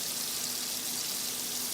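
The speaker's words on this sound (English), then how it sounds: "That's sizzling nicely." Beef tenderloin steak pan-frying in oil gives a steady, even sizzle, close and continuous throughout with no breaks and no voices.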